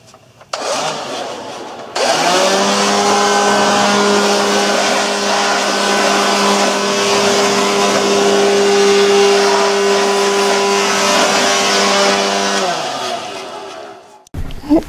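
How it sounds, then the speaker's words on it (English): A leaf blower roars steadily at close range as it blows debris out of a Baby Lock serger outdoors, starting up abruptly and holding a loud, even whine for about ten seconds before winding down. "you don't have to use a leaf blower, but it does make quick work of it"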